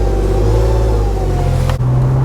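A car engine revving loudly and close as the vehicle pulls away, a steady rising drone that shifts pitch near the end, no talking.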